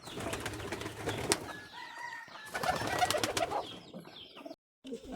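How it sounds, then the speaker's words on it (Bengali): Shiraz pigeons at a home loft coo softly with bursts of wing flapping, moderately close and without talk, ending in a brief drop to silence. "সিরাজ কবুতর"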